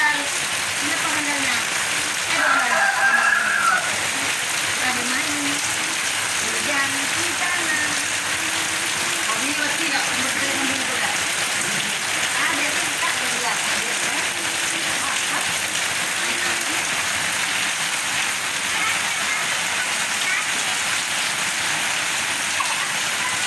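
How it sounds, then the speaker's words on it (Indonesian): Steady rain pours down in a continuous, dense hiss, with a voice and brief chatter heard faintly under the downpour. "Ada anak bayi hujan-hujanan."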